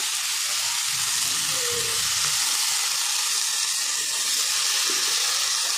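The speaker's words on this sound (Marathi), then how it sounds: "आता चांगलं परतून घेते ही भाज्या" Mixed washed vegetables being sautéed in a pan for a traditional Bhogi mixed bhaji, a steady broadband sizzle and hiss running throughout with faint stirring underneath, no voices.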